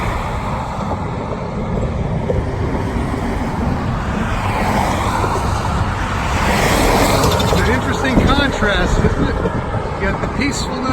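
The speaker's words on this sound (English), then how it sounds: "and the craziness of the traffic" Steady roar of road traffic crossing the Delaware River bridge into New Jersey, with continuous engine and tire noise, wind buffeting and passing vehicles swelling near the end.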